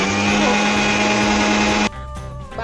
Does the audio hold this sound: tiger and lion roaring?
no